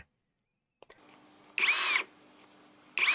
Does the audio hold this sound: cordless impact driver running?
yes